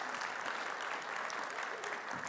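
A church congregation applauds for Sean and Glenelle, dense and even clapping from a crowd that holds steady throughout, filling the room without a break.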